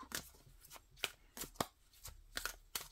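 Tarot cards are shuffled by hand in a series of crisp, close riffling bursts, about eight quick flutters spaced irregularly over a few seconds, with a quiet background between them.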